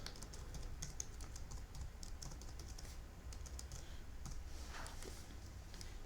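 Keys clatter steadily as a password is typed on a computer keyboard, quick irregular clicks running throughout over a low background hum, with no voices.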